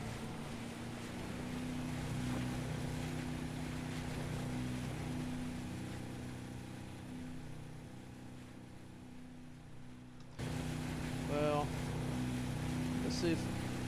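A motorboat engine in the video game Arma 3 hums as a steady low drone with some wind-like hiss. The sound shifts abruptly late on, and a few brief higher sounds follow.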